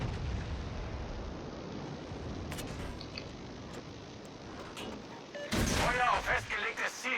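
Torpedo explosions sinking a battleship in a naval video game: a continuous rumbling barrage, then a sudden loud blast near the end with crackling debris and tonal game effects, under a low background murmur.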